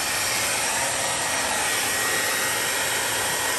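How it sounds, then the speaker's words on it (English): A hair dryer blows steadily at close range, a loud, constant whooshing hum with no pauses or voices. "then we're gonna turn the hairdryer on."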